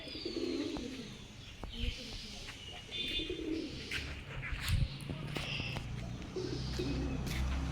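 Pigeons coo in low, soft rounded calls while feeding, amid light chirps and rustling, several birds close by, with faint background noise throughout.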